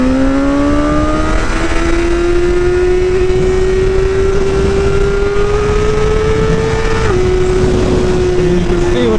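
A BMW S1000R motorcycle engine holds a loud, high, steady whine near 13,000 RPM, surging and climbing slowly before a brief dip, heard close and continuous.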